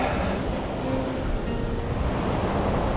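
Steady surf washes continuously onto a Cornish beach, a broad, even rush of breaking waves close by with light wind across the microphone and no voices.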